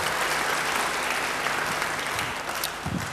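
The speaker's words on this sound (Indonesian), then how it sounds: "Beri tepuk tangan yang baik bagi dia." A church congregation claps loudly and steadily throughout, a dense unbroken applause with no voices standing out above it.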